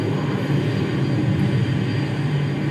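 A large heavy airliner's engines spool up on the ground before takeoff, a steady loud broadband roar and rumble that holds evenly throughout with no voices.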